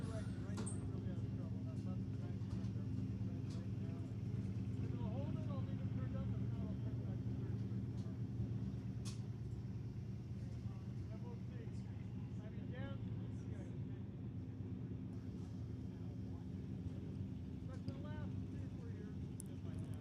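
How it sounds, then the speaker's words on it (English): Two turbocharged drag cars idle and bump forward toward the staging beams at a quarter-mile strip, a steady low engine drone with rising boost whine throughout, under light crowd noise and voices. "both cars turbocharged and getting ready to bring it into the beams. You can hear the boost building at both as they bump it in"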